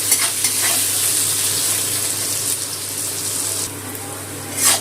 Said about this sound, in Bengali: পেঁয়াজটা একটু লাল করে ভেজে নিয়েছি।